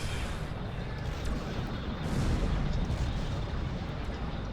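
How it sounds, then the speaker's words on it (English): Sustained gunfire from a battle in Star Trek Online, a dense continuous rumble of shots and booms filling the scene at steady loudness, with no pauses between bursts. "What is that noise? Who are they shooting at?"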